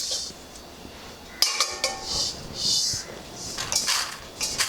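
Horse gram being dry-roasted in a pan, giving scattered clinks and scraping clatters of the seeds and a utensil against metal, moderately close, with no talking.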